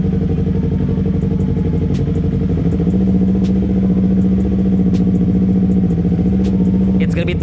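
A big motorcycle engine idles in neutral, a loud, close, steady low rumble with a slight rise in pitch midway, while a few faint clicks sound over it.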